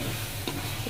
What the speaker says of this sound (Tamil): நல்லா கிண்டி வச்சுக்கலாம்.